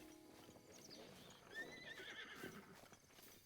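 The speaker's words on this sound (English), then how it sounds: "I can't catch that horse." In Zelda: Breath of the Wild, a horse's hooves clip-clop at a gallop and it neighs partway through, heard faintly with no speech.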